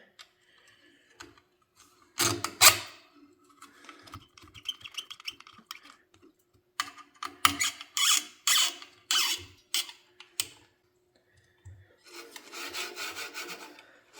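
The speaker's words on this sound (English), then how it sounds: "Sounds a little squeaky for some reason" Screws turning through parts of a RatRig V-Core-4 IDEX 3D printer printhead give close, dry squeaking and rasping in bursts, with short scraping strokes separated by quiet pauses.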